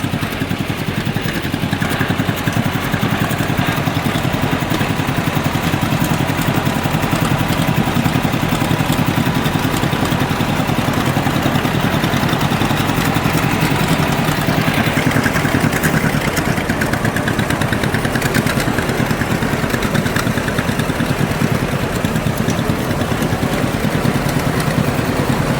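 Tractor engines running at an outdoor tractor show, a steady loud mechanical drone with clattering texture that holds continuously throughout without pause.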